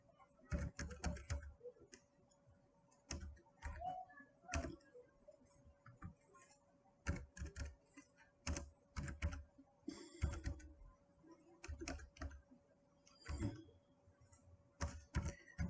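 Someone types narration into Tally accounting software on a computer keyboard, with irregular bursts of close, crisp key clicks and short pauses between them in a quiet room.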